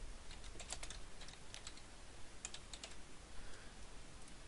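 Keys clatter on a computer keyboard in quick, uneven bursts of clicks, close and fairly quiet, with short pauses between runs of typing and no voices.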